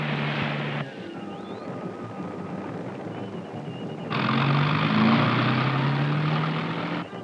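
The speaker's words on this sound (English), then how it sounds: "Wolfgang tells the drivers to split up in order to encircle the antelope and drive them back toward the trap" Off-road vehicles grind over rough terrain while herding gemsbok antelope, a steady close engine drone that drops back briefly, then surges louder and fuller before easing off at the end.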